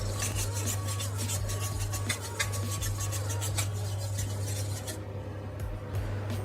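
A chef's knife drawn back and forth across a wet whetstone, giving a steady, close rasping scrape in repeated strokes over a constant low background hum.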